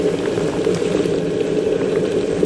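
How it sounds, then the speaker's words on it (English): Loud, steady rolling bubble and rumble of water at a full boil in an electric kettle, continuous and close. "Definitely heated up the water quickly."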